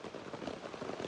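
Steady rain falls at night, a constant soft hiss of drops pattering on surfaces, even and unbroken with no voices.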